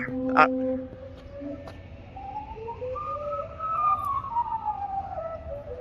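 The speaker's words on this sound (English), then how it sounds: "That's the boat I'm taking a tour on right over there, making those, that music with the steam." A steamboat's steam calliope plays a wavering, whistle-like melody of gliding notes from some distance, over steady outdoor background noise in New Orleans.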